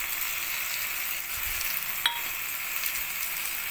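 Masala paste hits frying onions in a hot pan, giving a loud steady sizzle with a brief stir near the middle.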